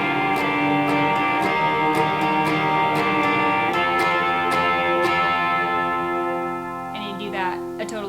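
Electric guitar strumming the main verse and chorus pattern of a song, played slowly with chords ringing under a light effect before fading into a softer tail, no voices.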